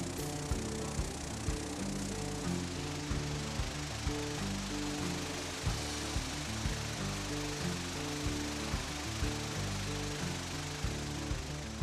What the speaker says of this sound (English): A tumbler filled with porcelain stones removes all sharp edges from each object.